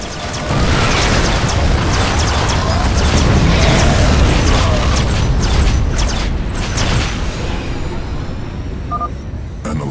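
A massive experimental warhead blast in StarCraft II, a loud sustained roaring explosion with crackling debris that swells over several seconds, then fades into a quieter rumble with a faint electronic blip near the end.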